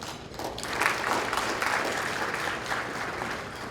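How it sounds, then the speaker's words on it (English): An audience at a Haitian community partners gala bursts into hand-clapping applause, a dense, steady roar of many hands that swells and holds throughout. "if you believe that. Hand clap."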